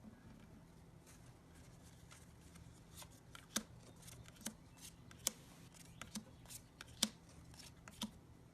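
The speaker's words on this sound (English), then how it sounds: "Shuffle the action cards and then deal 3 cards to each player." Playing cards for the board game Ghost School are shuffled quietly up close. A soft riffling texture is broken by several sharp snaps and clicks from the cards.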